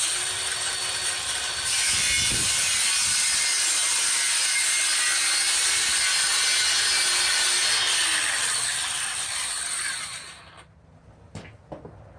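A battery-powered saw trims along the edge of a wooden speaker box, whining loudly and steadily for about ten seconds before winding down and stopping, followed by a few faint clicks and taps, with no talking.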